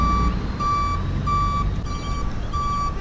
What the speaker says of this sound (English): And that's the truck backing up over there.